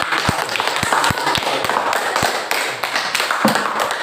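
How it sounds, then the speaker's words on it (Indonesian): A class applauds a group after its presentation, with scattered hand claps and taps ringing out irregularly over a busy room murmur. "Ya, aplaus untuk kelompok audio."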